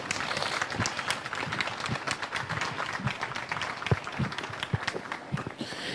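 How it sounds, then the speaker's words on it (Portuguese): A live comedy-show audience applauds a comedian arriving on stage, dense crackling clapping mixed with crowd noise, steady and fairly loud for the whole stretch. "Recebe com forte aplauso Joharvi Ricardo"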